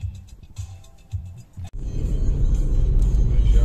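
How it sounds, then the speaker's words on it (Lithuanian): Heavy car traffic on a busy street in Łódź, Poland, heard from a moving car: a few quiet, uneven rumbles, then a sudden loud, steady rush of engines and road noise that carries on to the end. "Labai intensyvus eismas Lodze."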